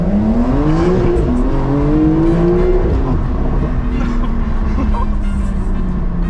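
Porsche accelerating in the video game Free Fire, its engine tone climbing and falling as it revs through gears, loud and continuous under constant road noise.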